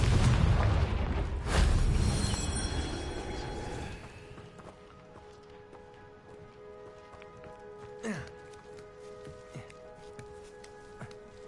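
A Confringo fire spell from Hogwarts Legacy erupts as a loud, rumbling blast that rolls on for a few seconds, then fades into quieter game ambience with scattered soft thuds and one sharper impact.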